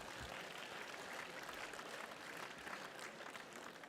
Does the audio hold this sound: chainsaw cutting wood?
no